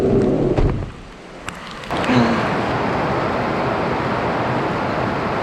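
Heavy rain pours down on a parked van during British weather, a dense, steady roar of rainfall that swells loud and continuous after a brief quieter lull near the start.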